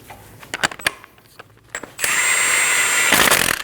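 A power tool whirs steadily for over a second as it drives a front axle bolt on a Volkswagen Passat wheel hub, preceded by a few sharp metallic clicks and clatters, loud and close, no speech.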